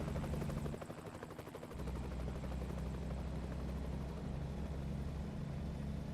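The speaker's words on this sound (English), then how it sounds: "I hear a helicopter." A helicopter flying overhead makes a steady, continuous rotor drone with a rapid chop that dips briefly early on, then holds at an even level without talk.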